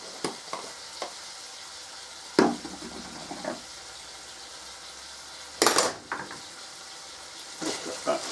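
Pork and beans for cassoulet sauté in a pan, giving a low, steady sizzle broken by several loud scraping stirs and clinks of a utensil against the pan.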